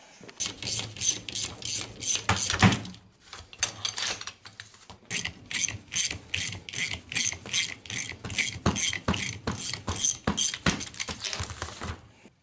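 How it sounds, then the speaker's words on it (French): Ratchet wrench clicking rapidly while nuts are put back onto the steering of a Citroën 11, bursts of close metallic ratcheting with brief pauses and occasional clinks of metal on metal. "je vais y remettre ces écrous dessus"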